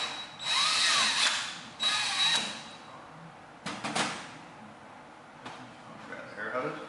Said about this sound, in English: all we're going to do is drill a small hole in here so it can get back into the map sensor.